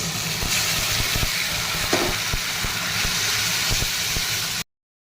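Onion and spices fry in oil in a pan with a steady, loud sizzle and hiss, broken by a few soft clicks of stirring, and no voices.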